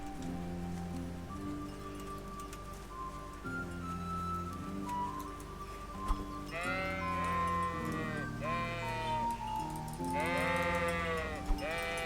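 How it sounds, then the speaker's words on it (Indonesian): Several sheep bleat in the Kingdom Come: Deliverance video game, repeated overlapping bleats rising over a steady ambient game soundtrack with soft tonal drones. "Ada domba juga."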